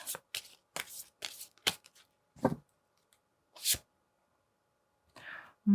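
Oracle cards for a tarot reading being shuffled by hand in close, crisp riffling bursts, repeated in quick succession with short pauses between them, then a few softer card taps, with no talking.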